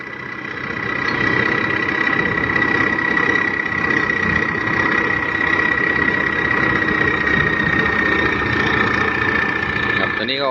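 A rice combine harvester, customized with a racing seat, runs its engine at a steady, loud drone with a constant whine on top, holding even for about ten seconds before a brief clatter at the end.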